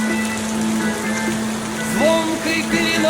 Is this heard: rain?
yes